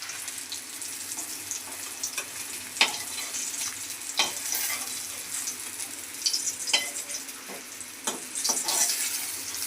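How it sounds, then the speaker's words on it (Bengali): Chepa puli rice cakes wrapped in pumpkin leaves fry in a pan with a steady, crackling sizzle, broken by sharper spatters and scraping stirs as the cakes are turned and lifted out; no one speaks. "পুলিগুলো খুব সুন্দর করে ভেজে নিচ্ছি, এখন একে একে নামিয়ে নিচ্ছি।"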